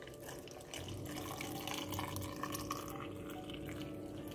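Hot water pours steadily into jars of zucchini preserves being readied for pasteurization, a quiet continuous splashing and trickle at close range with no talking.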